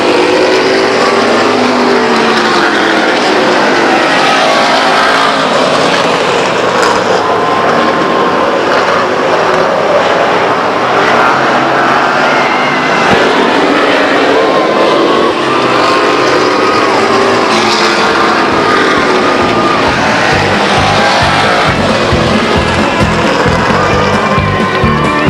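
Stock race cars lapping the oval at Stockton 99 Speedway, a loud continuous engine roar that swells and fades as the field passes, with a race announcer talking over it.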